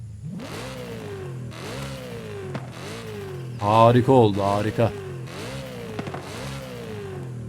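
Repeated engine revs of a modified twin-turbo 2005 BMW M3 in Forza Horizon 5 rise and fall in a steady rhythm, a deep throaty exhaust note, with a brief burst of excited talk partway through.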